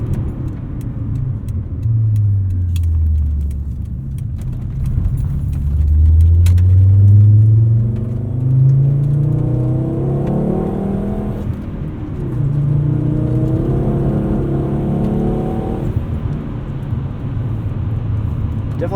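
A 1997 Volvo 850 R with a five-speed manual and all-new suspension drives along, its engine note climbing and falling through gear changes under steady road and cabin rumble, loud and close from inside.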